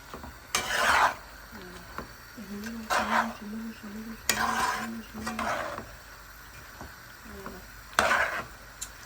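A salted sauce for bebele is stirred in a pot: soft scraping bursts come in uneven strokes, with a faint low voice humming in the background.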